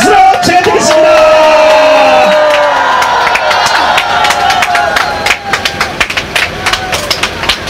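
An outdoor political rally crowd in the rain cheering and shouting, with a loud swell of voices and clapping that breaks into scattered claps and calls toward the end.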